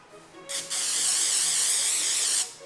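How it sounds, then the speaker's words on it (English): Pam cooking spray hisses onto a pan in a short burst, then a longer, steady spray of about two seconds, close and loud, with no talking. "I'm going to overly spray this with Pam on the pan."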